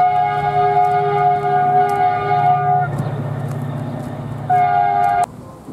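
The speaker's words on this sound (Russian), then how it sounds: "и поезд едет еще" A train horn sounds long, steady tones as a train rumbles past Friguia animal park in Tunisia, the horn cutting off and returning before stopping abruptly.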